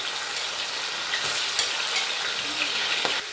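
Food sizzles steadily in a hot pan for Haitian rice and beans, a dense bright crackle with a few louder spits and stirring scrapes, close and alone with no talk.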